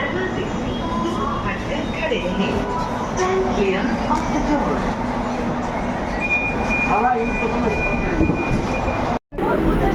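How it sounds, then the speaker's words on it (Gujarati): A metro train pulls into a station in Ahmedabad with a loud, steady rumble and rolling wheel noise, faint squeals and brief tones over it, and people talking throughout. "આપણી મેટ્રો આવી ગઈ છે।"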